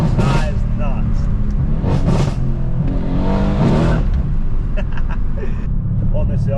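A tuned 630bhp Mercedes C63 AMG engine revs hard in loud, repeated bursts with a rough V8-style roar, close by and continuous across the stretch, with voices faintly mixed in.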